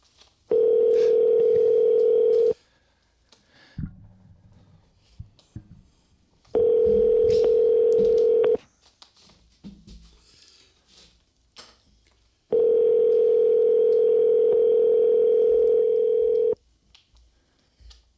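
A telephone menu call forwarding to voicemail: three long steady tones of about two seconds each, separated by pauses, with faint speech and small noises between them.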